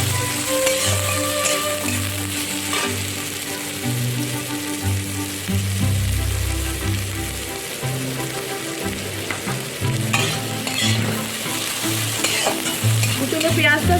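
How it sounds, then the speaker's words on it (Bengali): Chopped onion fries in hot oil for Chicken Maharani, giving a continuous crackling sizzle broken by stirring scrapes and the occasional clink of a utensil against the pan. "কুচানো পেঁয়াজটা একটু লাল লাল করে ভেজে দিতে হবে।"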